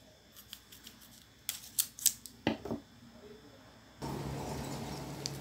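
Plastic drinking straws snipped in half with scissors, giving a series of sharp, close clicks and crisp cuts that grow louder midway, followed by a steady rustling hiss.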